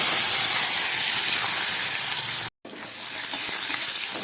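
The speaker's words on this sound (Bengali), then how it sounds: "তেলটা গরম হয়ে গেছে, আমি কালো জিরেটা ফোড়ন দিলাম।" Potato pieces and nigella seeds fry in hot oil, a loud close hiss of steam and sizzle that cuts out for a moment, then returns slightly softer and steadier.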